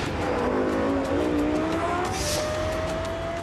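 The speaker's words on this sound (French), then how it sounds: "Le bruit de ce moteur à très haut régime est tout à fait caractéristique." The V10 engine of a Lexus LFA revs at very high rpm, a loud, sharp, climbing wail that rises quickly and holds near the top, heard alone.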